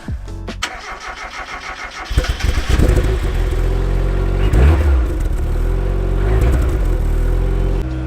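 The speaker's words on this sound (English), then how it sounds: "cold start on the Mazda" A Mazda MX-5 Miata starts from cold on a frosty morning: after a moment of quiet the starter cranks briefly, then the engine catches with a loud rising rev and settles into a high, rough idle close by.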